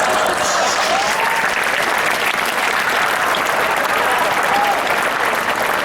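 Steady, dense audience applause fills a Hindi comedy poetry (hasya kavi) show, loud and unbroken throughout, with a few faint whistles or shouts mixed into the clapping.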